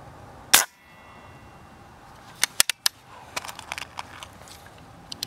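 A rifle shot at a distant target cracks once, sharp and loud, then fades. Several smaller clicks and knocks from handling the gun follow.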